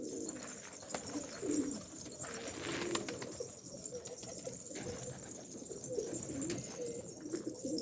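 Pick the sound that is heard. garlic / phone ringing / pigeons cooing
pigeons cooing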